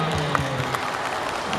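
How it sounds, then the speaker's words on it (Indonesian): An audience at a Quran memorization event applauding a young reciter, a continuous wash of clapping with crowd voices and talk over it. "Beri tepuk tangan untuk adik Adifa Septiani."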